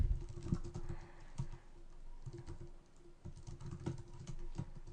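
Rapid, close-up typing on a computer keyboard with uneven bursts of key clicks and a few heavier strokes, steady and alone with no talking.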